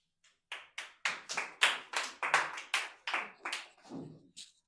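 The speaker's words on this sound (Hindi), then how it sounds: "दोनों के लिए तालियां।" A small classroom group claps about a dozen distinct, separate hand claps in an uneven rhythm, close and clear against a quiet room, with no talking.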